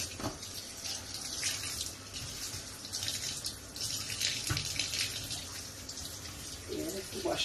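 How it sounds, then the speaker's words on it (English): Fresh thyme and scallions rinsed under tap water in a kitchen, a steady nearby faucet stream with splashing and dripping, some speech mixed in. "You're gonna wash these."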